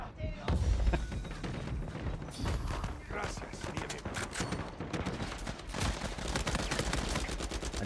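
Rapid gunfire from the HS gun in an Uncharted multiplayer match, a steady crackle of shots running throughout under a player talking.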